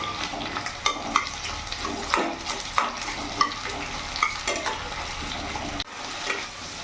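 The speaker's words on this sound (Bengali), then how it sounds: "ফুল আছে পেঁয়াজটাকে আমি ভেজে নেব" A full bowl of onions frying over a high gas flame, with a steady broadband sizzle punctuated by sharp scrapes and clinks of stirring at irregular intervals, close and fairly loud.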